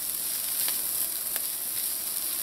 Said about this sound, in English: Now you're going to put in the garlic.